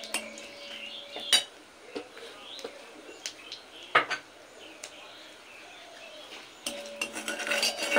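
Panch phoron five-spice tempering with half a dried red chilli being stirred in a pan: intermittent metal clinks and scrapes of a spoon against the pan, with a soft steady background and a few faint chirps.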